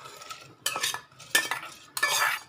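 Rice being stirred into a pot of boiling water spiced with garam masala, in a pressure cooker: four separate scraping, clinking bursts of a spoon against the metal pot, close and fairly loud, with short pauses between them.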